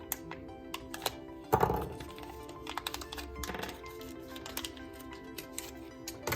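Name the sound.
taking RC car steering knuckles out of packaging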